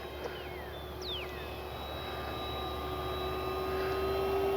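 An FMS F4U Corsair 1700mm V3 RC model airplane flies overhead on its maiden flight, giving a steady propeller drone with whining tones that glide in pitch as it passes, heard alone.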